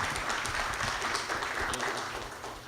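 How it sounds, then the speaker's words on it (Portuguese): Steady, dense applause from a crowd, filling the whole moment without a break. "Vamos receber, então, o Roberto com uma forte salva de palmas."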